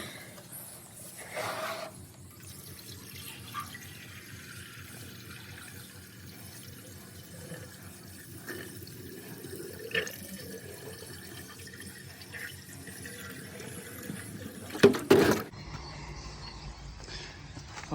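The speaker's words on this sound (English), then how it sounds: "Why can I hear running water?" Water running quietly and steadily somewhere inside, a low continuous trickle with a few louder splashes and knocks near the end.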